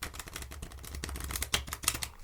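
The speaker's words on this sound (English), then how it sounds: "And then we'll give it a riffle shuffle, of course, one of the most well-known shuffles" Playing cards are riffle-shuffled close up, giving a quick rapid patter of crisp flicking clicks at low volume with a couple of sharper snaps near the end.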